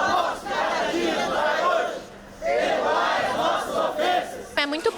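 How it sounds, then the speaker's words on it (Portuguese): Volunteers cheer and applaud after filling a truck bed with donations for disaster victims: loud crowd shouting in two long swells with mixed voices, then a brief pause and a final short outburst. "Quando a carroceria ficou lotada de donativos, os voluntários aplaudiram e rezaram pelas vítimas."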